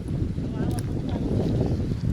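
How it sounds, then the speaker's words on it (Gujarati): Strong wind gusting across an open farm field, a steady broadband rush with buffeting on the microphone, close and constant throughout. "બહુ આજ જોરદાર પવન છે"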